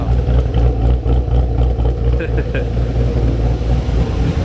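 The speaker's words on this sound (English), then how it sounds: "we got the car running. That boy is chopping right now." A Camaro Z/28 engine idles roughly with a choppy, uneven low rumble, loud and close, running steadily throughout without talk.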